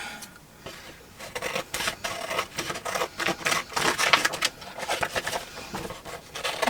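Repeated crisp snipping and rustling of paper close by, in irregular bursts of cuts, with no talking.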